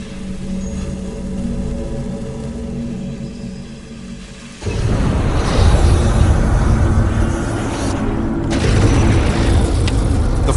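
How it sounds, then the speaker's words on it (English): A flamethrower fires burning gasoline over 60 feet at a hay bale, giving a loud, sudden roaring whoosh that breaks in partway through and then holds as a heavy, sustained rumble. "The flamethrower fires burning gasoline over 60 feet and instantly incinerates the target Richard has set up."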